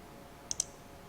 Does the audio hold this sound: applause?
no